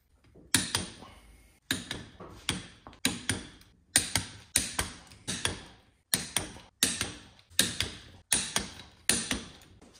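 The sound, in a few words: torque wrench clicking while torquing engine bolts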